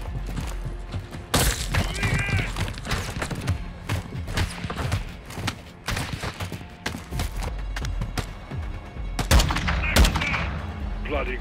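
Repeated sniper rifle shots and sharp gunfire bursts ring out in a first-person shooter campaign set in cartel territory, loud cracks scattered across a busy battle mix with brief voices.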